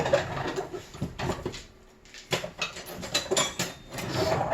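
Metal utensils clatter and rattle in bursts while someone digs through them for a slotted spoon in a home kitchen making chicken corn soup, with a brief quiet gap before the rattling resumes.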